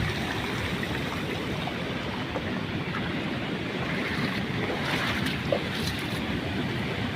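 Flood water rushing over a farm field embankment during a stream flood, a steady broadband roar of churning water that stays close and constant throughout, with no talk.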